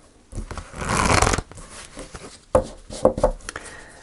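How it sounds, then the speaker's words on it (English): A deck of tarot cards is riffled in one long rustling burst, followed by several short taps and slaps as the cards are squared up, close by. "One more shuffle."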